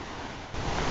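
River rapids on the Potomac beside the C&O Canal rush in a steady, broad wash of water noise, loud and constant, with slight wind buffeting toward the end.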